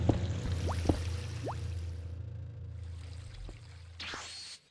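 Water trickling and pouring steadily in Minecraft with small bubbly plops, then a brief hissy splash near the end.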